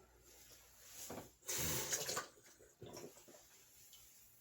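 Two tablespoons of water splash briefly into three tablespoons of dry strawberry cake mix, a short close pour in bursts that is fairly quiet, with no talk.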